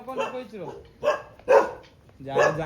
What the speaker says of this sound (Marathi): हे कुत्रं बुकायला लागलं बघा